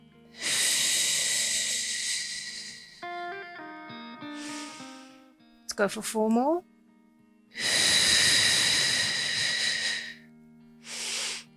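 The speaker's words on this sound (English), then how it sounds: "My breathing might sound a bit heavy in the microphone." Heavy breathing close into a microphone during a prenatal Pilates session, with long loud hissing exhales and a rasping inhale separated by a woman's spoken counting.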